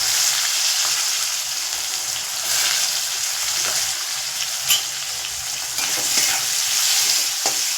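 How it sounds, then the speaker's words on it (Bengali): Chopped onions frying in oil while being stirred, a continuous close sizzle with occasional scrapes and clicks of the spoon against the pan. "পেঁয়াজ হালকা ভেজে নেব।"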